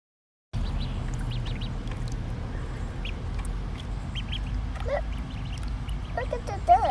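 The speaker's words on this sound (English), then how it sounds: "Look at the ducks." Ducks quacking and squawking in short scattered calls, growing more frequent toward the end, over a steady outdoor background with people talking.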